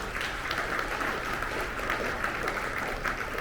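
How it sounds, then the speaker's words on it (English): An audience at an awards luncheon gives a steady round of applause, dense even clapping filling the room at moderate level without pause. "round of applause for all of the awards that we're gonna give out today"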